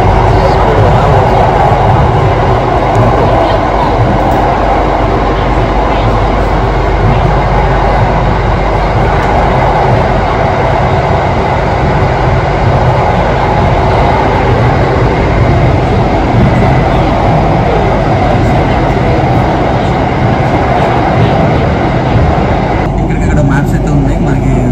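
A Vietnam metro train runs along the track with a loud, continuous low rumble and roar throughout, heard from inside a carriage, with voices faintly under the noise.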